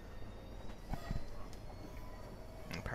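A train in Train Simulator 2014 accelerates, a steady rolling rumble with a few soft rail clicks, fairly constant and heard alone without speech.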